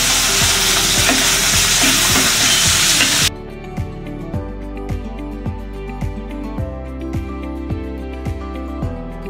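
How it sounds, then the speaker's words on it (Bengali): Onions frying in a pan with ginger-garlic paste, cinnamon, cardamom and salt, a loud dense sizzle at first, then a quieter hiss broken by regular scraping stir strokes. "ভালোভাবে নেড়ে পেঁয়াজটা ভাজা ভাজা করে নেব।"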